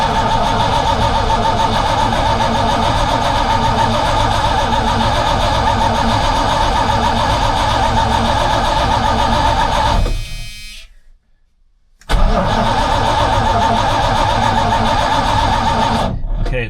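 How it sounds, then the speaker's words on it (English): A 1980 Dodge W200 Sno-Commander truck engine cranks with the choke unset. The starter grinds loudly and steadily for about ten seconds, stops briefly, then resumes. "I'm going to crank it without hitting the choke because I want to build up some oil pressure first"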